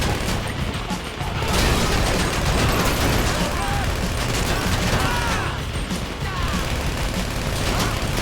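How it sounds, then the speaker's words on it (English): Heavy gunfire in the video game GTA V, a private army's continuous bursts and rattling shots blending into a dense, loud wall of noise that persists throughout without letup. "You hear that gunfire?"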